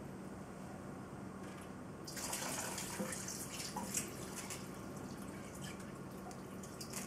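Water pours steadily into a pot of beef chili mixture, a rushing splash starting after a quiet hiss and continuing at moderate volume.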